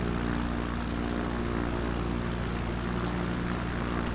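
A propeller aircraft engine in a flight simulator game idles and rumbles steadily while taxiing on a backcountry Idaho airstrip, a low, even drone at modest volume with no talking.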